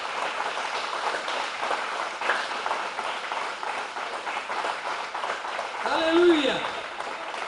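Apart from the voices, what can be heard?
congregation applause in church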